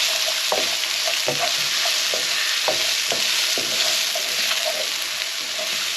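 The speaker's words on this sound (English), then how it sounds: "And keep frying them." Shallots sizzle steadily in a hot pan, with repeated clicks and scrapes of stirring across the constant frying hiss.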